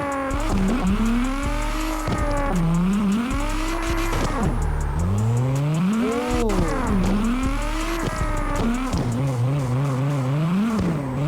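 Nissan R32 with an 1100 bhp tune in the CarX Drift Racing video game, its engine revving up and down in repeated swooping sweeps, with tire squeal as it slides through corners, loud and continuous.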